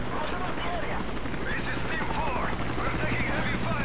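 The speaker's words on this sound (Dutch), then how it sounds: "Daar is de helikopter." Helicopter in the Modern Warfare 3 shooter game, a steady loud rotor roar filling the whole stretch amid dense battle noise and possible distant gunfire, with someone talking over it.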